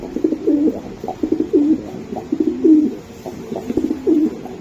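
Pigeons cooing in a racing pigeon loft, repeated low throaty coos in a steady rhythm, close and clear with no talk over them.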